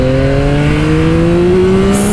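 2025 Yamaha YZF-R9 motorcycle accelerating hard in second gear from about 35 mph, a loud close engine note whose pitch climbs steadily and without a break.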